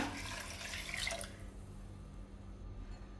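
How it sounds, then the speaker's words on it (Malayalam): Water is poured into a pressure cooker holding wheat for payasam, a close splashing stream for about a second before fading to quiet room tone. "ഇതിലേക്ക് വെള്ളം ഒഴിച്ച് കൊടുക്കുക"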